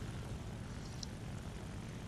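The engine of a Soviet La-5FN piston fighter roars in the War Thunder flight game as a steady, dense drone that stays loud and unbroken throughout, with no talk.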